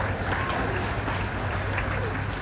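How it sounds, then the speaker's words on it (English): Graduation audience for Howard University applauding steadily, a dense wash of clapping with crowd murmur running continuously throughout. "Yes, clap it up for 25 to life."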